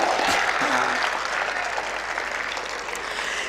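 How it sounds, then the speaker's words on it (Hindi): An audience at a university poetry recital (kavi sammelan) bursts into loud, dense clapping, a continuous close wall of applause lasting a few seconds with faint voices underneath. "अगर बात पहुंच गई है तो ताली बजा करके संकेत दे मुझे।"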